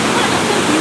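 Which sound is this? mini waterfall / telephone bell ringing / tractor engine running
mini waterfall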